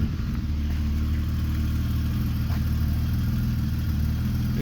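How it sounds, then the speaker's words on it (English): A BMW E32 735i with an automatic gearbox and a straight-six engine runs at a steady, smooth idle with a low, even hum. It is close and constant, with no talking. "Super smooth straight six."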